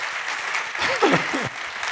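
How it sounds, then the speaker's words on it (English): Applause from the audience at a startup competition on mobility and smart cities fills the room as a dense, continuous wash of clapping, while a voice speaks briefly partway through. "Big applause for Javier."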